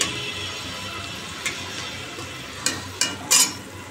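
Eggplant fries in a wok with a soft, steady sizzle, broken by a few sharp clinks and scrapes of a spatula against the metal near the end.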